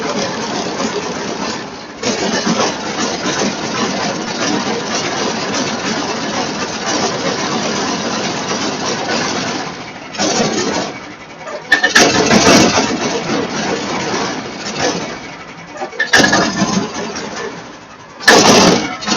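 Small engine of an AMT626 utility vehicle fitted with an upgraded Kohler engine, lacking power and failing to accelerate, running close by with a steady rough drone that cuts out and restarts in bursts.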